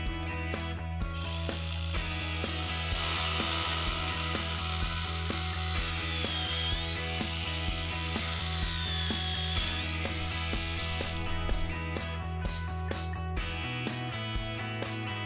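A Bosch Professional cordless drill whirs and clicks in steady bursts, drilling holes in wood for a gate, heard close over continuous background music.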